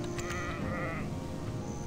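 Sheep in the online game Black Desert Online let out a short, wavering bleat that is loud and close, with no talk over it.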